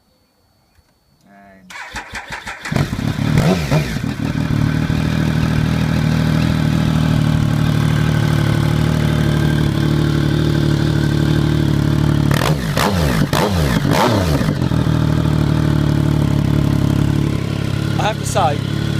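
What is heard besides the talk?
Triumph GT 1050 SE motorcycle engine starting and idling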